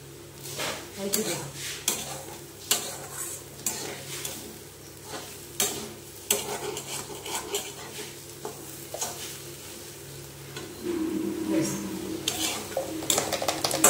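Dal with turmeric is stir-fried in a pan: a soft sizzle sits under repeated spatula scrapes and clinks against the metal, in an uneven rhythm that continues throughout.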